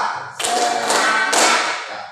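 A class of schoolchildren claps in a short rhythmic classroom cheer: three loud bursts of clapping, the last trailing off, close and with no speech over it.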